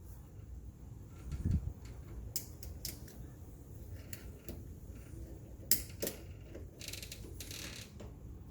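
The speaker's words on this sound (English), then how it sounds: "Now the bottom hole, install a screw on the left side and the right side." A screw is driven into the mounting plate of a Kwikset SmartCode 914 Z-Wave smart lock, giving scattered close metallic clicks and scrapes with a few sharper ticks in a quiet room.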